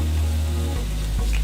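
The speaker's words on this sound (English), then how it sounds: "Hear them sizzle, you gotta let them cook for a little bit." Chicken fajita strips sizzle in a hot pan, a loud continuous frying hiss with a brief stir near the end of the short stretch.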